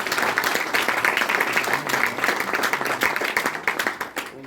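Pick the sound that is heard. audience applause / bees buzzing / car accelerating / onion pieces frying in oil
audience applause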